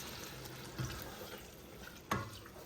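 Water runs and splashes faintly into a pot of collard greens cooking in smoked turkey broth, a soft steady wash with a couple of small sloshes and knocks.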